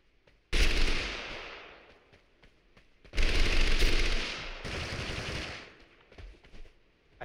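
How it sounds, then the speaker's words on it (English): Minigun fire in the Totally Accurate Battlegrounds shooter game, two long sustained bursts of rapid gunfire, the second longer, each starting abruptly and tailing off, heard without talk. "I think that's somebody with a minigun."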